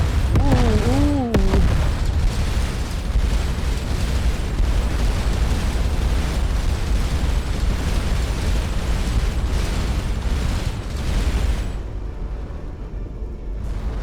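Deep, rumbling explosions roll continuously as an enemy cannon is destroyed in the space game Starcom: Unknown Space, loud and dense, opening with a brief warbling electronic tone and fading slightly at the end.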